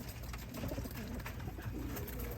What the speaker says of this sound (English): What I have here is all of my young birds out in the aviary.